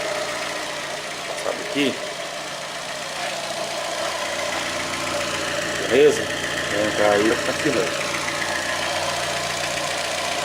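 A Fiat Fiorino engine idles steadily after a water pump replacement, a low continuous hum running through the whole stretch, close by, while someone talks over it.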